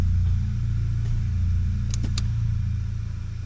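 An old VW Golf GTI idles and runs with a worn gearbox, giving a steady low engine rumble with a few faint, brief clicks and whines over it. The sound is close and continuous.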